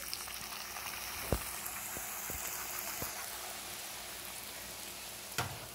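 Uncooked wheat roti frying as poori in hot oil gives a steady, dense sizzle throughout, with a few sharp clicks and knocks from utensils, close by and without talk.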